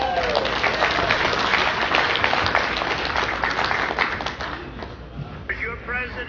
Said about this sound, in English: Everybody give me a round of applause for Cass